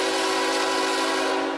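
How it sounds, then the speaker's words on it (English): A manifest freight train passes near Fostoria, heading towards Cleveland, giving a continuous loud rumble with steady ringing tonal lines and no voices over it. "Here comes another train. This one is a manifest heading towards Cleveland."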